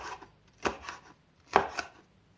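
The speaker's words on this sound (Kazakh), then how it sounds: "Осылай 4 бұрышты қылып тураймын." A knife chops hot bell peppers into quarters on a board while making lecho: two quick clusters of sharp, close taps, with quiet pauses between them and no talking.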